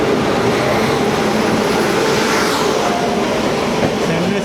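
The Chennai Central–Ahmedabad Navjeevan Express rushes past a moving AC express train, a loud, continuous roar of wheels and air close by.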